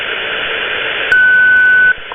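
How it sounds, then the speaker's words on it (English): A WWV shortwave time signal station received over radio: a steady hiss of static, then a single clear high tone beep lasting under a second, loud and close, with no voice. "WWV, which sounds like this."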